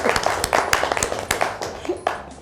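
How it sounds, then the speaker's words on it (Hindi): A small audience claps at a Christian family Easter event, producing a series of sharp, uneven claps that rise and fall against a roomy background, with no one speaking. "तालियां होनी चाहिए।"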